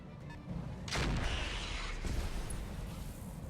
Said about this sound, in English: the airstrike is going to make things complicated for us, for sure